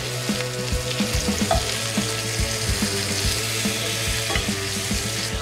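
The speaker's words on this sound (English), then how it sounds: "These will cook quicker because they're a thinner cutlet because we pounded them out, but we do wanna get kind of a sear." Thin pounded cutlets searing in a hot pan, giving a loud, steady sizzle and crackle throughout, with faint scraping and bubbling close by and no voices.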